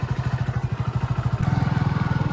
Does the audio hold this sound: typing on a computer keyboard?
no